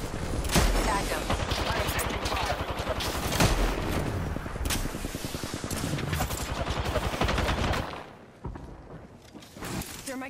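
Sustained automatic gunfire in Apex Legends, dense overlapping bursts from several weapons for about eight seconds, loud and continuous, then dropping to scattered quieter shots and thuds.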